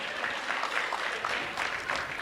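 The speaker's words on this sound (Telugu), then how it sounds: "give him a big round of applause" Audience applause at a Telugu film event honouring comedian Sathya in front of director Rajamouli, a steady wash of clapping from a crowd that holds at an even level throughout with no voices rising above it.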